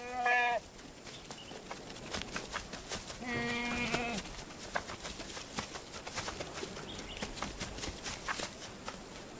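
Goats on an island bleating, two distinct wavering calls close by over a busy background, with no talk.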